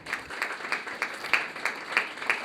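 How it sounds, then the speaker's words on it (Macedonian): A small audience at a Zdravec supermarket prize draw claps steadily, with a dense run of overlapping handclaps in a fairly even rhythm throughout. "молам да ги поздравиме овде присутните со еден аплауз"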